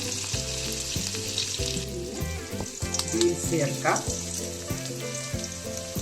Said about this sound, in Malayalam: ഇനി ഇതിലേക്ക് ഉള്ളി ഇതെല്ലാം ഒന്ന് വഴണ്ട് വരണം അല്ലേ